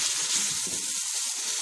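Salt, chili, turmeric and other ground spices sizzle and fry in a pan for Sindhi biryani, giving a steady, close, even hiss with faint low stirring bumps and no voices.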